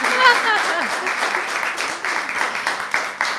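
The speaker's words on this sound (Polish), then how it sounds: "poproszę Was o brawa" An audience at a Polish book premiere about dogs in the city applauds, a dense burst of clapping from many hands throughout, with a voice briefly over it at the start.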